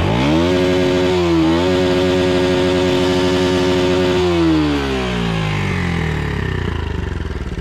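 Stock factory exhaust on a motorcycle during an offroad ride, the engine revving hard and loud in a sustained, throbbing roar, holding high revs, dipping briefly, then rising again before the pitch falls away as it settles back down.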